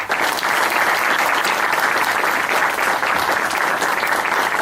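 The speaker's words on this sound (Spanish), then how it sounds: "Con un aplauso, por favor." Dense, continuous applause from a lecture audience fills the room at a steady, strong level for several seconds, with no talking over it.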